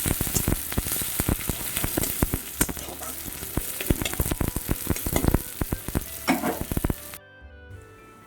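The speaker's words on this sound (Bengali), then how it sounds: "নাড়িয়ে চাড়িয়ে একটু লাল লাল করে পেঁয়াজগুলো ভেজে নেব" Chopped onions frying in hot oil in a wok give a loud, dense crackling sizzle with frequent spatula scrapes and stirring clatter, then cut off abruptly near the end.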